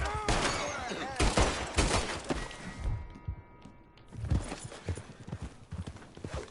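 Horse hooves clip-clopping in Red Dead Redemption 2, a rhythmic series of hoof thuds near at hand, mixed with sharp gunshot-like cracks early on and a brief lull midway.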